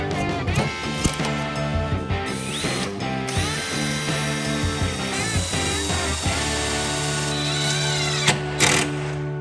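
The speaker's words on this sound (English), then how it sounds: "now it's time to cut these shims off" Wood shims under installed 24-inch base cabinets cut off with a power tool: a loud, continuous, close mechanical buzz with a strong rattling whine throughout, with no talking.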